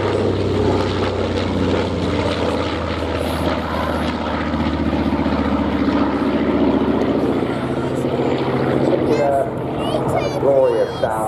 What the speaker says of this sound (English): Glorious sound from those radial engines.